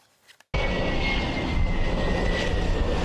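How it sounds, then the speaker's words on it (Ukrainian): A Saab 340 AEW&C airborne early-warning aircraft flies overhead in the sky over Sweden, its broad, steady engine roar starting abruptly after a brief quiet moment and holding loud and constant. "У небі над Швецією здіймається літак раннього попередження та управління АС 890"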